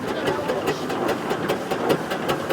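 A small steam traction engine idling at a steam gathering, giving a steady, regular chuffing beat of soft repeated puffs over a continuous mechanical hum, close and moderately loud with no talk.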